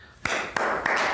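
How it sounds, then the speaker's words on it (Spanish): Three or four sharp hand claps ring out in a quiet interview setting, spaced unevenly about a third of a second apart, each a crisp broadband burst. "Te interrumpí con un aplauso."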